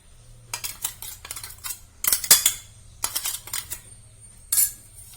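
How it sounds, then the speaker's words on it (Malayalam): Dried mango pieces dropped into a ground spice mix, a series of sharp clinks and rattles of pieces and a utensil against a metal dish, coming in irregular bursts close up with quiet gaps between. "ഇനി നമ്മള് പിന്നെ ഇന്നലെ തയ്യാറാക്കി വെച്ച മാങ്ങ ഇത് ഇതിലേക്ക് ഒന്ന് ഇട്ട് കൊടുക്കാം കേട്ടോ"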